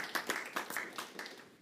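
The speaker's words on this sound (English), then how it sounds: "we can give them a round of applause" Scattered applause from a small group honoring the facility team at a fire district board meeting in a meeting room, a few separate hand claps rising and falling over a couple of seconds, moderately quiet and somewhat distant.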